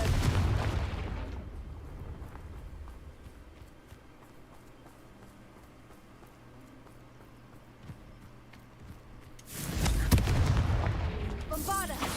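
A Confringo fire spell blasts in Hogwarts Legacy, a loud burst with crackling impact near the end, following long stretches of quieter ambient game sound and a low rumble.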